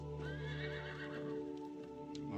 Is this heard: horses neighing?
yes